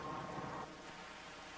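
A storm with heavy rain pours steadily while a low thunder rumble rolls underneath and then fades partway through, leaving a dense, even hiss of rainfall.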